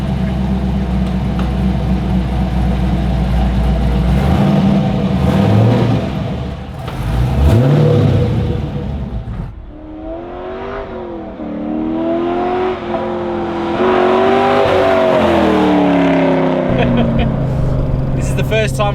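Turbocharged four-cylinder car engine revving and accelerating hard on a first drive after its build, rising pitch sweeps through the gears, loud and close with people talking over it.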